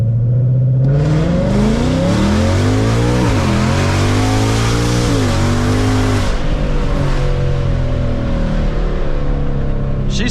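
A 2024 Ford Mustang GT accelerates hard with its tires spinning, the loud engine roaring up through the revs, dropping at a gear change, then climbing again before fading off.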